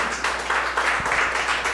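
A church congregation applauds during a worship service, a dense, even wash of many clapping hands heard at moderate loudness throughout, with no pause.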